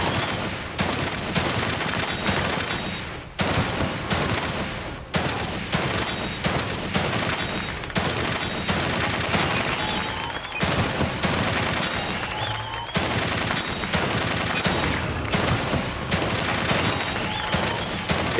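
Rapid gunfire from shooting in the video game The Evil Within 2, loud sustained bursts of automatic fire broken by a few short pauses.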